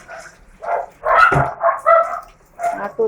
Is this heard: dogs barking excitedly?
yes